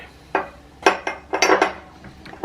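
A whisk stirs milk and cornstarch slurry in a measuring cup, giving a run of irregular, close metallic clinks and taps, some in quick pairs, with no talking.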